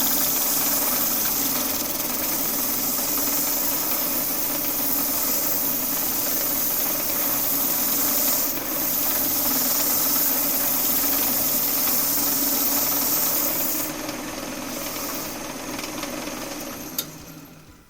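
Sandpaper, 150 grit, pressed against a spinning wood turning on a lathe, producing a steady, loud, continuous hiss and whir with a motor hum beneath, easing off near the end.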